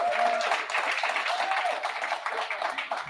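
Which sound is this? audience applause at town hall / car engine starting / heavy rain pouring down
audience applause at town hall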